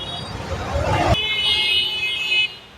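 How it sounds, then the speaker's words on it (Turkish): A high, reedy auto rickshaw horn blares in a sustained honk over busy street noise and crowd chatter at a lighting market in Hyderabad, India. "Bak nasıl korna çalıyor bu."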